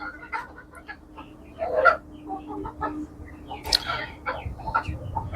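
Hens cluck in short irregular bursts, a few louder calls rising above a steady low hum and faint background chatter.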